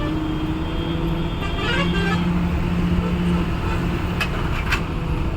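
Busy road traffic heard from within the jam, a constant low engine rumble and drone with a few short horn toots scattered near the start and end, loud and close throughout.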